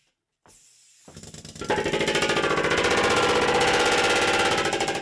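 Pneumatic hammers sinking and shaping a metal steel drum: after a brief start, a loud rapid metallic rattle of blows builds into a sustained dense pounding, close and unaccompanied by speech.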